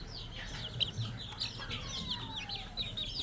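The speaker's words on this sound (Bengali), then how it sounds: "এখানে বেশ অনেকগুলো মুরগির বাচ্চা আছে এই যে এগুলো সবই বড়ো করতেছি" Chickens and chicks on a farm, a flock of young birds peeping and clucking in quick overlapping calls, close and moderately loud against a low background hum.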